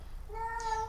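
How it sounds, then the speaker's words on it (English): A cat recovering from surgery lets out one short, faint, plaintive meow that rises and then levels off, alone indoors over a quiet background hum. "I'm sorry about my cat."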